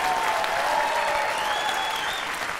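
Audience applause for a dancing performer, a dense, steady wash of clapping from a crowd that carries evenly through the whole stretch and tapers just slightly at the close.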